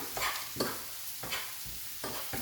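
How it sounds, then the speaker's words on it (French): Celery sizzling in a frying pan, with a steady hiss and a spoon stirring it through in several scraping strokes, heard close and alone. "on va mettre tout de suite donc le céleri dans la poêle. Hop. On va bien mélanger."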